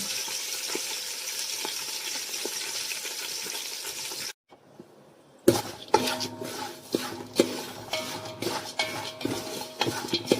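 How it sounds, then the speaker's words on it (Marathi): Spices, dal, peanuts, garlic, curry leaves and chillies stirred in a pan for a tempering: a steady run of scraping and clinking, a short hush midway, then louder, busier stirring with sharp metal knocks and faint sizzle. "आता इथे सगळे मसाले, डाळ, शेंगदाणे टाकून मी फोडणीची तयारी केलेली आहे."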